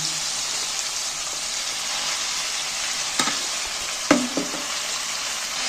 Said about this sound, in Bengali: এইবার আমি পালং শাকগুলো যে কেটে রেখেছি কাটা শাকগুলো এর মধ্যে তুলে দিচ্ছি